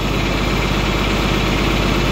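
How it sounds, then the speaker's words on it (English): A John Deere 4430 tractor engine runs at a steady idle, its low, even diesel drone holding constant throughout without any voices. "You can hear the tractor stop cycling oil"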